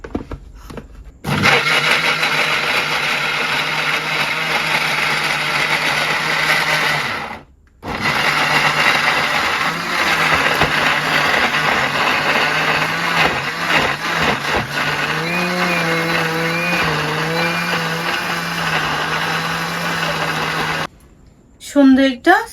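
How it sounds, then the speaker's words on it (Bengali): A mixer grinder jar whirs loudly and steadily as it blends mango into a paste, running in two long bursts with a brief stop between them, and a voice speaks faintly partway through. "জারের ঢাকনা ভালো করে লাগিয়ে পেস্ট করে নিব।"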